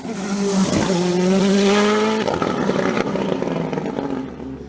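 A Norma M20 FC 2-litre CN2 sports prototype race car howls past at a hill climb, its engine note rising loud then dropping sharply as it shifts and pulls away, staying prominent throughout.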